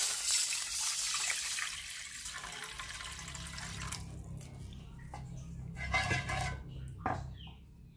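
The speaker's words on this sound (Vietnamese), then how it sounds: "Mình sẽ cho nước dưa tươi vô đây." Fresh coconut water poured into a pot on a switched-off stove makes a soft, steady splashing stream, followed by faint clinks and drips of kitchenware.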